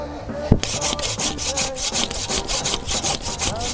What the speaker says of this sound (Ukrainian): дерево вологе, воно пилку зажовує і воно нічого не пиляє